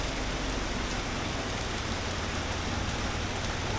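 Rain falling in Bohol province, a dense, loud and even downpour hissing steadily on surfaces throughout, with no voices.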